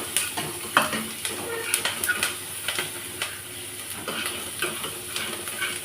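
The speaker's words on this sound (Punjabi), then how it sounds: "ਥੋੜਾ ਜਿਹਾ ਭੁੰਨ ਲਾਂਗੇ ਆਪਾਂ" Close sizzling of food being roasted in a pan, with a spoon scraping and tapping against the metal in an irregular rhythm.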